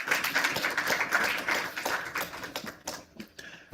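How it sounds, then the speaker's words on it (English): Audience applause at a women's awards conclave for the real estate industry, a dense patter of clapping that thins out and trails off into scattered claps near the end. "a big thunderous round of applause"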